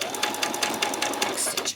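A sewing machine stitches a fabric piece for a peasant top, running with a close, fast, even rhythm of needle strokes throughout.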